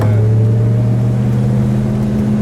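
A red 1966 Dodge Charger with a 426 Hemi and four-speed pulls hard in first gear, a loud, steady low engine drone holding a strong rumbling note from close inside the car, with no talking over it.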